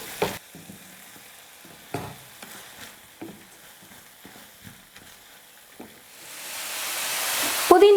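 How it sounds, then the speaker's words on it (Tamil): Mint, coriander and roasted dals sautéing in a pan, with a soft sizzle broken by occasional spatula scrapes and taps, then a louder hiss building toward the end. "புதினா கொத்தமல்லி சேர்த்து 2 நிமிஷம் நல்லா வதக்கிட்டேன்."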